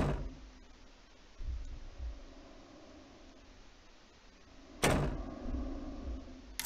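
A door opens in the horror video game Ao Oni, one sharp burst followed by a sustained noisy creak or slide over quiet background noise, with no one talking.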